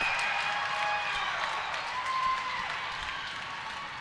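A basketball crowd in a high school gym, at North Penn versus Central Bucks South, roars and applauds as a steady wash of cheering and clapping that holds high and slowly fades toward the end.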